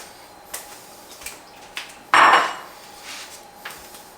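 A ham hock drops into a pot of split pea soup with one loud, brief clunk and splash midway. Faint taps and knocks come before and after.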